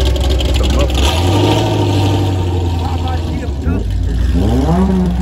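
A car fitted with a Corsa exhaust that keeps its mufflers revs hard, the loud, close engine note surging and climbing in repeated pulls over a continuous rumble, with voices faintly beneath.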